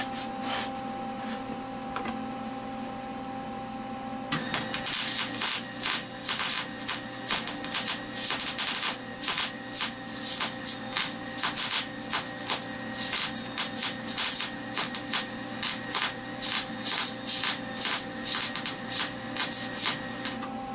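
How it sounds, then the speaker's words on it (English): Welding on the second side of a homemade steel sharpening jig: after a quiet hum, a loud, steady run of rapid crackling and sputtering begins partway through and continues to the end, close up and with no talk. "now I'm going to weld the other side"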